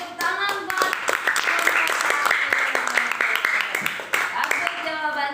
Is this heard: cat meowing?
no